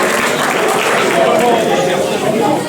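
A crowd applauds the winner at a Picardie UFOLEP championship race in Pasly, Aisne, with steady dense clapping and cheering sustained throughout under a loud, reverberant mix.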